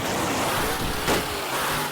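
El Toro Loco monster truck roars at Monster Jam in Ford Field, Detroit, a loud, dense, continuous engine drone with a brief surge midway, filling the arena without any voices.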